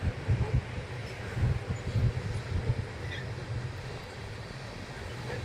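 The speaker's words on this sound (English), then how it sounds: "there's another just massive freaking coal train" A long coal train rolls by in the Powder River Basin of Wyoming, a steady low rumble with rhythmic wheel thumps from the cars, moderately distant and continuous, with wind in the background.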